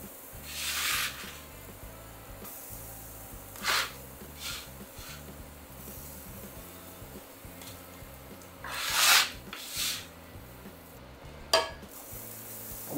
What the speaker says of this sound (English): I'm just gonna add my oil into the pan.